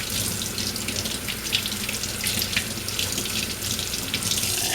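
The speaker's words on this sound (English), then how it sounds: "rinse under my sink." Leeks are rinsed under a running kitchen sink tap, a dense continuous gush of water spattering over the vegetables and basin, steady and close with no talk.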